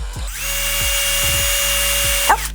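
A power drill whirs up to a steady high whine and runs close and loud, with a few knocks and a brief clatter as it stops.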